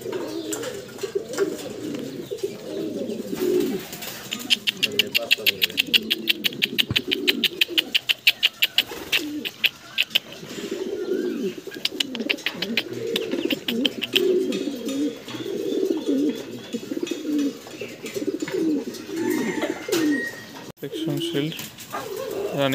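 Fancy pigeons coo repeatedly at close range amid a busy loft, low throaty calls running throughout with rustling and brief clicks, while people talk nearby.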